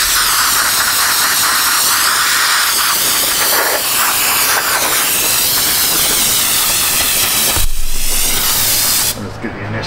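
Brake cleaner sprays loudly onto the frozen parking brake shoes and actuators of a Chevy Traverse, a close, continuous hiss that holds steady for several seconds before cutting off abruptly near the end.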